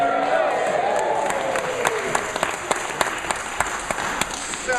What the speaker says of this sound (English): Let's have a cheer if that all sounds really,